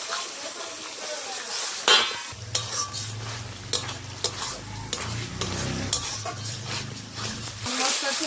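Chicken offal masala with turmeric and potatoes fries in a pan while a spoon stirs and scrapes through it, with repeated knocks against the pot over a low sizzle; a dog and faint voices sound in the background.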